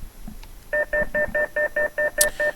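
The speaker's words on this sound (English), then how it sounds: "that will get rid of the very noisy binging within the helicopter" A two-tone electronic alert beeps nine times in quick, even succession inside a Eurocopter EC 135 cockpit in X-Plane 11, loud and clear over a faint background hum.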